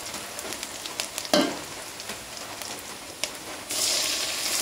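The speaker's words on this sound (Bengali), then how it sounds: "এটাকে ভালো মতো লাল করে নেব, লাল করে ভেজে নেব" Something fries to a reddish brown in a pan for a Sirajganj broken-rice dish, with a steady crackling sizzle, one loud clattering stir, scattered scrapes, and a brighter hiss rising near the end.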